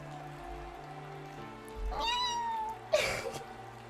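A cat lets out a drawn-out, wavering meow that sounds like a crying baby, followed by a shorter sharp cry, over soft patter in the background.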